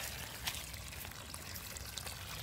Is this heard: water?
yes